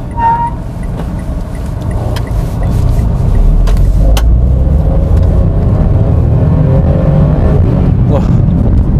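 A three-cylinder Mitsubishi Mirage accelerates. Its engine drone is heard loud and steady from the cabin and builds in strength after the first few seconds, with road rumble underneath throughout.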